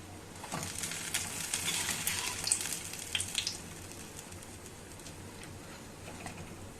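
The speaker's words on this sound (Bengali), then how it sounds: "দই বড়ার জন্য যেটা ভাজছিলাম সেটাও দেখো ভাজা হয়ে গেছে বাদামি রঙে" Lentil vada frying in hot oil until brown, for dahi vada: a steady, fairly quiet crackling sizzle with scattered pops, no voices.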